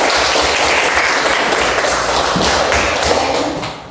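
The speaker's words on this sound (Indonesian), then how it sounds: "Silakan kita beri aplaus untuk Afriska" A classroom audience applauds Afriska with steady, dense clapping from many people, loud and close, holding for several seconds before easing off at the end.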